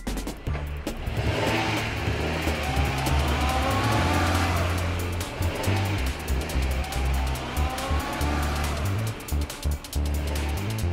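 Cartoon supercar and fire truck speeding off on a rescue mission, revving engines and rushing whooshes with low rumbling and sharp clatters, fairly loud and continuous with no talking.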